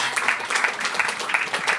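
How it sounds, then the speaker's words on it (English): An audience claps for the staff of the Lodge on Queen during a live music event, giving a brief, steady patter of applause with a faint voice beneath it. "Can we have a big round of applause like for all the folks at the Lodge on Queen here?"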